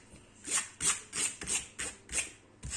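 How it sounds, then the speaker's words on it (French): Brush scrubbing across a diamond painting canvas: about seven quick, even rasping strokes in a steady rhythm, close and fairly quiet, with no voices. "un petit coup de brosse pour les impuretés"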